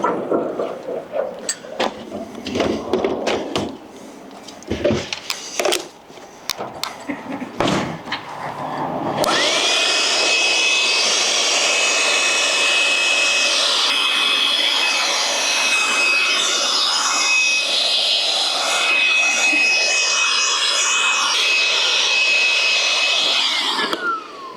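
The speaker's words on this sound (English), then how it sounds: "I'm going to get a blower out too, and hopefully that helps" A blower roars steadily and close for most of the stretch, drying a chalk line on a concrete house slab, after a run of irregular knocks and handling noises.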